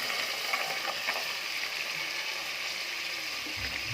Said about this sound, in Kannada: ಇವಾಗ ಬಟಾಣಿ ಕಾಳು ಹಾಕ್ತಿದ್ದೀನಿ.